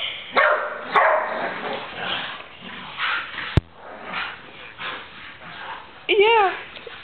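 A dog playing tug of war with a rope toy makes low, rumbling growls and whiny yips in bursts close by, with a sharp click midway and a rising whimper near the end.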